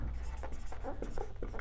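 Handwriting on a board or page during a Class 10 maths lesson on circle areas, a quick series of short scratchy pen or chalk strokes, close and quiet against background hum.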